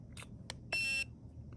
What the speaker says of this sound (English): You can set high pressure and low pressure alarms